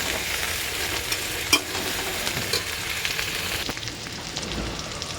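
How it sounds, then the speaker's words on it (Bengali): Onions fry in a pan after potatoes for a chicken kosha, a continuous close sizzle with occasional stirring scrapes and one sharper knock. "পেঁয়াজটা ভাজবো।"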